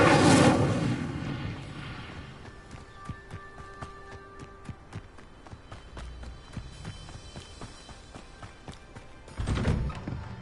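A fire spell cast in Hogwarts Legacy: a loud whooshing burst of flame at the start, then a run of sharp crackling pops and clicks over a low rumble, with a second fiery surge near the end.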